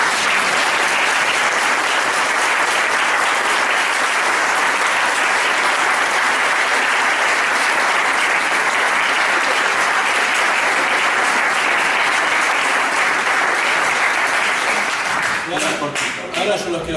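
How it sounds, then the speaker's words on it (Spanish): Sustained audience applause at an open talk on hypnotherapy, a loud, even wash of many hands clapping for around fifteen seconds before a voice returns at the end. "Se merece un aplauso."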